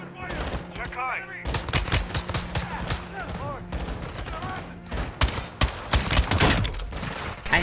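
Automatic weapons fire in short bursts and single cracks during a firefight in Call of Duty: Modern Warfare II, loud and close, with a voice speaking between the shots.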